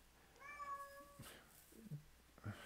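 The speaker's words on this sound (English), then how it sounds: "my cat seems to be awfully vocal right now" A domestic cat indoors gives a clear, drawn-out meow followed by softer chirps and small calls, close but fairly quiet, with no talking.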